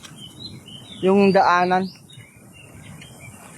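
A crow gives one loud, harsh, drawn-out call lasting about a second, close by on an outdoor hiking trail in Taipa, Macau, with faint talk and quiet ambience around it.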